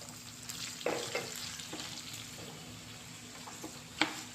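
Chopped ivy gourd with ginger, turmeric and salt fries in a pan, giving a steady soft sizzle broken by a few sharp clinks and scrapes of the stirring spoon.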